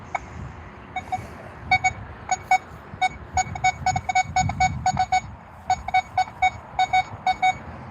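Metal detector signal tones while hunting for buried targets, a rapid series of short, bright electronic beeps in irregular bursts over a low rumbling background, close and fairly loud.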